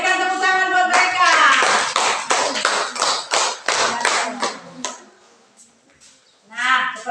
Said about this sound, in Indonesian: Berikan tepuk tangan buat mereka.